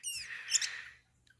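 A pet bird gives a short burst of bright chirps lasting about a second, fairly close and clear, then falls quiet.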